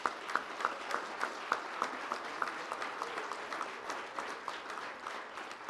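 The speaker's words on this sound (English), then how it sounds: "Can I have a huge round of applause for these folks?" Audience applause at a credit union executive awards event, a steady dense clapping from a large crowd lasting throughout, with sharper individual claps standing out near the front.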